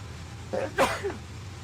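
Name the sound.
sneeze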